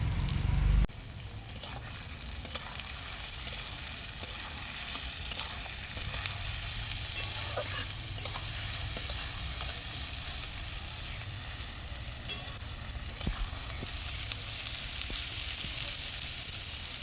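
Onions fry in a pan for chicken bhuna with a continuous, even sizzle that holds at moderate loudness, broken by occasional light clicks from stirring.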